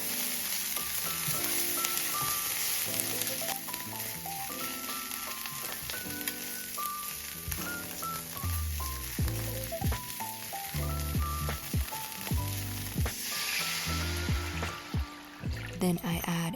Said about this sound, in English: I add 1 tablespoon of olive oil, green onions, and grated ginger to a pan and cook for a few minutes